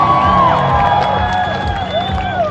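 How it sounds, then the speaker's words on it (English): A crowd of spectators at a Formula Drift event cheers and whoops loudly in a sustained burst, with several high voices standing out above the roar. "A lot of ladies cheering for Aasbo."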